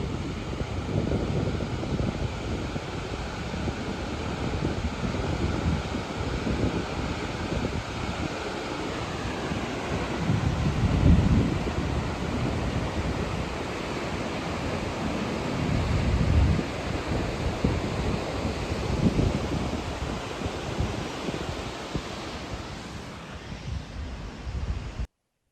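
Thoseghar main waterfall, a broad continuous roar heard from a viewing gallery at a distance, steady throughout with a few louder gusty swells, no talking.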